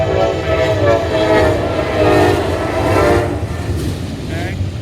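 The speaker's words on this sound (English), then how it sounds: "We got a train heading east on the other main." A freight train passes on the adjacent main line, its rumble loud and steady throughout. A horn-like tone rings over the rolling wheels, with no pause in the noise.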